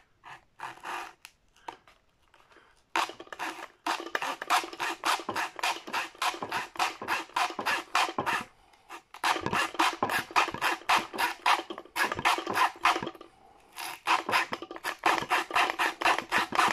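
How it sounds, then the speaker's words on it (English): Hand saw rasping through stacked book signatures at the bookbinding stage, a close, steady run of rapid back-and-forth strokes in bursts separated by brief pauses, with no voices. "I'm just going to now saw these where I've put the pen marks"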